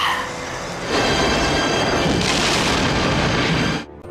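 A huge explosion in a war film as the last enemy German tank is destroyed in the Battle of Moscow: a loud, sustained roaring blast that surges twice before cutting off abruptly near the end.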